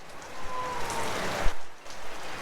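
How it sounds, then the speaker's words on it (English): Rain falling at Mapusa Market in Goa, an uneven patter and hiss of drops on surfaces, rising and dipping with a brief louder splash partway through. "It's super rainy"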